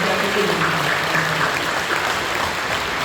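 Congregation clapping during a Korean church worship service, a steady dense patter of applause throughout with faint voices and music underneath.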